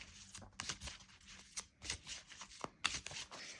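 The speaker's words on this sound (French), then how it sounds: "On va tirer une dernière carte." Tarot cards are shuffled and one last card is drawn from the deck, giving soft quick riffling flicks and papery slaps in irregular bursts, close and quiet.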